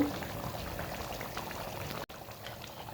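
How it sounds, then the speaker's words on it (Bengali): Ghee poured into a pot of finished Pakistani-style cooking, a steady close sizzling hiss and bubbling that runs without a break, with one very brief dropout near the end. "রান্না কমপ্লিট, এখন ঘি দিয়ে দিব।"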